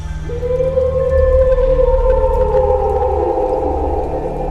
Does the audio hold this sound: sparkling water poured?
no